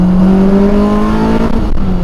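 A 2000 Honda Integra DC2 Type R with a fully built K20/K24 swapped engine drones loudly and steadily under load, a strong tonal engine note holding near and constant, easing slightly toward the end.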